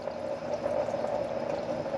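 Trapped air and antifreeze sputter and gurgle out of the cooling system bleeder on a 2006 Chrysler 300 SRT8, a steady hissing, bubbling rush of liquid heard up close and alone.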